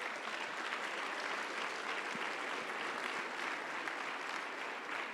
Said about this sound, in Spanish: ¿Podrás darle un aplauso al Rey de Reyes?